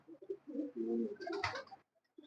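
A golden pigeon on a rooftop loft of champion birds gives a close, soft series of low throaty coos that swell and fade, with a brief rustle at the end.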